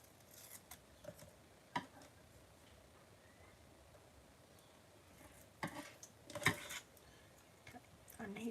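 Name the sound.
scissors snipping paper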